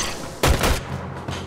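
Gunfire in the Warframe video game, a burst of heavy booming shots followed by a duller thump, loud and close over a constant rumbling background.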